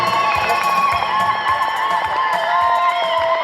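Wedding guests cheer and whoop as the couple makes their entrance, a dense, steady roar of crowd voices with high shouts and claps filling the room close up throughout.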